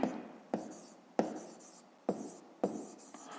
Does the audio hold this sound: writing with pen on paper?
yes